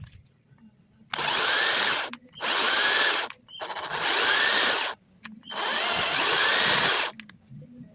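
A power drill fitted with a sheet-metal cutter attachment slices through thin zinc sheet in four loud, harsh whining bursts of about one to two seconds each, separated by short pauses.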